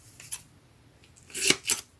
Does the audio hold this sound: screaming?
no